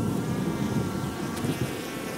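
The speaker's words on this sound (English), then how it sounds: "These two bees here, are they fighting, or is that a dead bee being removed?" Honeybees buzz at a hive entrance in winter, a steady close insect drone that holds through the whole stretch with small swells and no voices.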